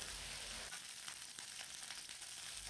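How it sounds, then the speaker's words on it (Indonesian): Chilies and shallots sautéing in a pan, a continuous bright sizzle with soft stirring scrapes, close and steady throughout. "Saya tumis dulu ya teman-teman biar gak bau langu."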